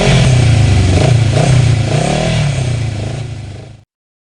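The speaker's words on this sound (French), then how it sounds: "Nous quittons la maison et nous approchons de sa moto. Il la démarre, elle fait un de ces bruits." A motorcycle outside a house starts up and revs, its loud engine and exhaust rising and falling in a steady, close-up roar before cutting off abruptly.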